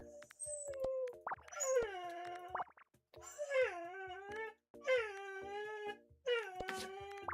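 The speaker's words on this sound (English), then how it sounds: "I'm so sorry about my crying dog." A pet dog named Tippy whining and crying in a drawn-out, wavering way, several long plaintive howl-like cries in a row, fairly close and loud, with no talking over them.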